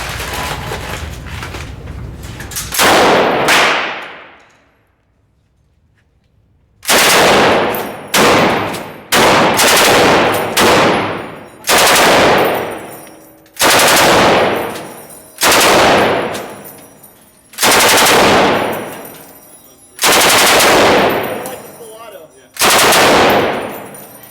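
Gunfire at a cowboy action shooting match: loud, close shots in quick bursts, a brief opening volley, a pause, then about ten evenly spaced clusters of blasts, each ringing off with a long echoing tail.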